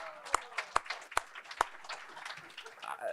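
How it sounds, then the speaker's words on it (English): Several people clapping in a room at a medal ceremony, a small scattered round of applause with a few sharp individual claps standing out. "So round of applause for Jenna."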